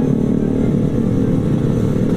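A Kawasaki Ninja RR motorcycle rides along at an easy pace, its engine giving a steady, loud, close droning rumble throughout with no talk.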